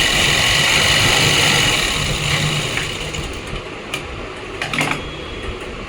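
A sewing machine stitches a pocket onto the front of Afghani pants, giving a steady, busy mechanical whir that eases slightly partway through and ends with a few light clicks.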